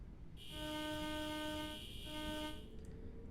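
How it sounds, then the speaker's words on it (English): A train passes in the Train Drive ATS 3 video game, sounding a long, loud horn blast that pauses briefly and resumes before stopping, over a low rumbling background. "There's a train."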